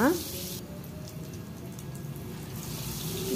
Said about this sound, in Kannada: ಆಯಿಲು ಬಿಸಿ ಆಗಿದೆ. ಒಂದೊಂದು ಬಿಟ್ಕೊಡೋಣ.